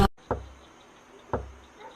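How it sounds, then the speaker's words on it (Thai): Two distinct knocks on a door at night, spaced about a second apart, fairly close and crisp against a quiet background. "ใครมาเคาะประตูเวลานี้"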